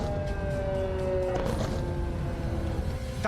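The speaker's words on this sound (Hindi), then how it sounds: "गाजा की सायरन का शोर अब इजराइल की राजधानी तेल अवीव में भी सुनाई दे रहा है।" Air raid siren wailing over Tel Aviv, a steady sustained tone held at moderate distance beneath a dense, continuous wash of background noise, with no voices.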